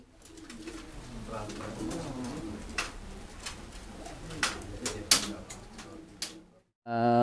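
Soft pigeon coos murmur beneath a busy background of voices and clatter, with several sharp clicks toward the end before a sudden loud burst.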